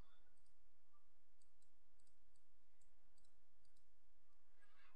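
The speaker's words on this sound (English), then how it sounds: "Right click on the shortcut, choose properties," A computer mouse right-clicking a desktop shortcut: a handful of faint, sharp clicks in quick clusters over a quiet background hiss.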